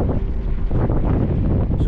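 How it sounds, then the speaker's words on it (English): Strong sea wind buffets the microphone on North Pier in Durban, South Africa, a loud continuous low roar and rumble with gusting texture and no speech. "It's a very windy morning."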